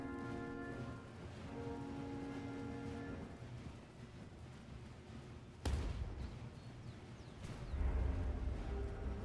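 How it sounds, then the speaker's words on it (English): Artillery guns firing on a battlefield in the strategy game Master of Command, deep booms and a sharp blast rolling under steady rain-like battle noise, with heavier rumbling toward the end. "Our guns are opening up."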